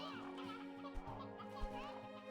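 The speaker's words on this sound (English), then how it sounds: "Let's grab some chickens." Chickens and roosters in the farming game Slime Rancher 2 cluck softly over steady background game music, with a couple of brief low thumps and no talking.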